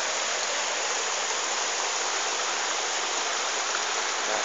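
Clear water rushes steadily down the Zázrivá mountain stream in Slovakia, a loud, dense and unbroken flowing wash heard close up with no voices.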